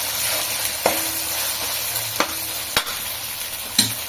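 Ingredients for goat leg paya soup fry with a steady sizzle in a pan, broken by several sharp scrapes and knocks of a stirring spoon.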